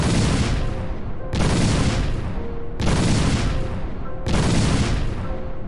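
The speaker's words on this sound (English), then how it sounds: "those were some pretty good fireworks" Cartoon fireworks explode in four loud, sustained broadband booms about every 1.4 seconds, each crackling blast fading into the next.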